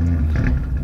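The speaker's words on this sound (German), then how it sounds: "Wenn ich den Wagen jetzt ausmache und wieder starte" An Audi RS3 five-cylinder engine rumbles loudly at low revs with exhaust flaps open right after a restart, a deep steady drone through the short moment.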